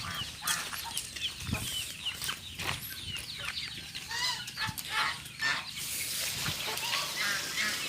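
Ducks and other farmyard fowl call repeatedly at close range, overlapping clucks and quacks from a flock of around fifty birds kept at home, busy and continuous with no talking.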